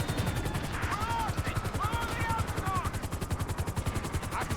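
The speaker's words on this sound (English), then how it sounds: "The police I called did shoot a handful of times at the helicopter" Police gunfire aimed at a helicopter in the video game GTA 5, rapid repeated shots over a steady helicopter rotor thrum, with talk running underneath.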